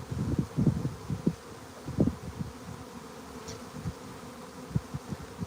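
A honeybee swarm buzzes close by at a farm apiary, the hum rising and falling in uneven pulses over a faint rustling background.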